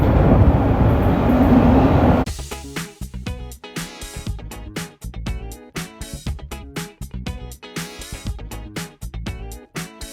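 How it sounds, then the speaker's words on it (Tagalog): A train pulls into a station: a steady rushing roar for about two seconds, then a run of rhythmic clattering wheel knocks and rattles as the cars roll past nearby, loud and continuous, no talking. "Nagpaparating na yung aking train."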